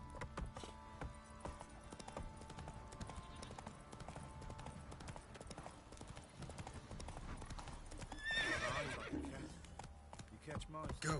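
Horses walking with steady, rhythmic clip-clop hoofbeats close by, with a brief whinny partway through and people talking and calling to the animals over the hooves.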